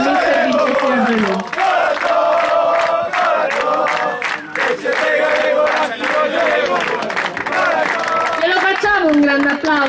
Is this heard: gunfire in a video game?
no